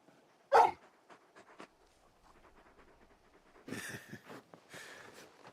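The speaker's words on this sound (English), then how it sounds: "You're just a big puppy, aren't you? A very big puppy." A dog in a Final Fantasy XVI game scene whimpers and gives a sharp bark, then pants and yips in short bursts, fairly close in an otherwise quiet scene.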